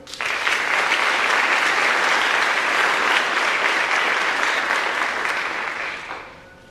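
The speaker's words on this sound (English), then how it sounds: "so we will clap for them individually" Sustained audience applause at a senior scholarship night, a dense, even roar of many hands clapping for about six seconds before tapering off at the end.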